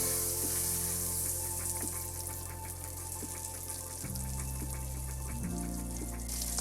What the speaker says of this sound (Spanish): vamos ahora en nuestro sartén bien caliente o calderito, agregamos 2 cucharadas de mantequilla